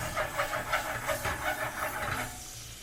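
Blackened tilapia fillet searing in a pan, a dense hissing sizzle that pulses in quick waves for a couple of seconds, close and fairly loud before easing off, with no talking.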